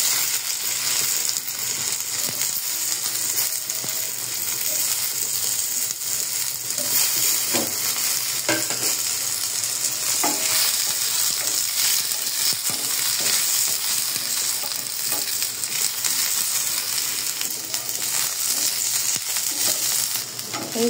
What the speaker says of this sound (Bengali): তারপর বাকি যে তেলটা রয়েছে তার মধ্যে আমি কুচি করে রাখা ভেন্ডিগুলো দিয়ে দিব। একটু ভাজা ভাজা করে নিব